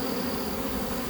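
Honey bees hum in a dense, steady drone close by while a swarm is shaken down from a hive and a queen excluder is fitted, a continuous buzzing with no pauses.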